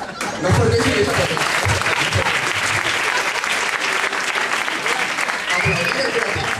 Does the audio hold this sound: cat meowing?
no